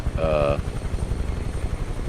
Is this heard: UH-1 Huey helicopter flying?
yes